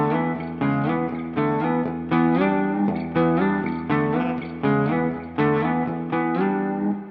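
A clean electric guitar with its effects pedal switched off, strumming a repeating chord pattern with clear plucked attacks that decay between strums, moderately loud and close with no voices.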